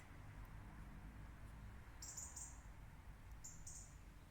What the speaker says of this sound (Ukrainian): І чуєте, як гарно пташки співають?